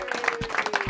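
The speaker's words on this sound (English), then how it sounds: "Big round of applause," Brief applause for a guest at the close of a football talk show, a short uneven spatter of claps over a faint steady tone, fairly quiet and over within a second.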